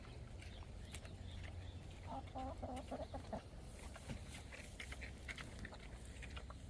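Chickens on a farm on a frosty November morning at feeding time, clucking in short rhythmic bursts, faint and at a moderate distance within a steady outdoor background hum.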